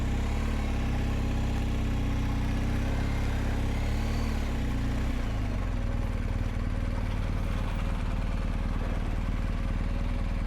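A BMW GSA motorcycle engine runs loud and close as the bike pulls in to park, its steady low drone easing down to a lower idle rumble partway through and holding there to the end.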